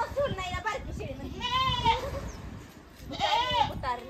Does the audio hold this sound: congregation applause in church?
no